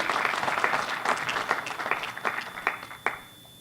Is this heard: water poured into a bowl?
no